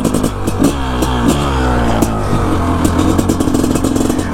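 A 500 CR motorcycle engine fires up and revs loudly up close, its throbbing, clattering exhaust note rising and falling through a few throttle blips before settling into a rough, steady idle.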